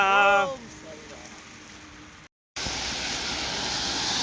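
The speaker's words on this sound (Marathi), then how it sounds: "भरपूर पाऊस पडत आहे" Heavy rain pours at Kasara ghat during a monsoon pilgrimage walk, a steady loud broadband hiss. It rises sharply after a brief silent cut, and a voice is heard briefly at the start.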